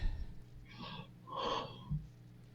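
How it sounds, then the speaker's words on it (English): Heavy breathing carried over an amateur radio link: a few loud, close, wheezy breaths and gasps over faint radio hiss, with no talk. "stop the heavy breathing"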